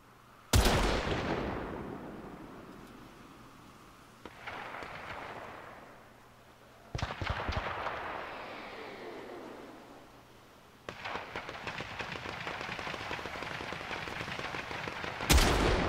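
Sniper rifle shots in a video game ring out as a few single loud cracks, each followed by a long decaying echo, spaced several seconds apart with steady background noise between them.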